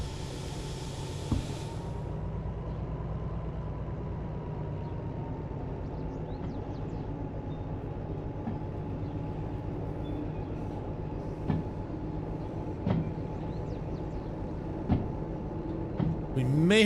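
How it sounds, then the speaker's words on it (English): A train in the Derail Valley railway simulator backs up slowly, giving a steady low rumble and hum with occasional faint clanks and squeals, and someone talks briefly over it. "So I'm just going to back this train up."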